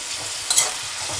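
Tomatoes cook in oil with a brief, steady close sizzle and one faint clink partway through.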